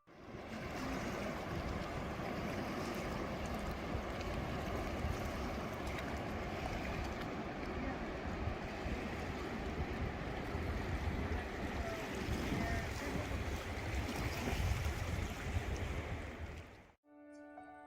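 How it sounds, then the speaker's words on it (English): River water flows steadily at Harper's Ferry, a continuous broad rushing wash that stays even and moderately loud before cutting off abruptly near the end. "Here's the river."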